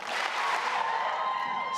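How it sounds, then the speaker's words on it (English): An audience at a high school graduation ceremony applauds in a large room, a dense burst of many hands clapping together, loud and sustained before tapering slightly, with faint crowd murmur beneath. "2 claps for Stella Gatos"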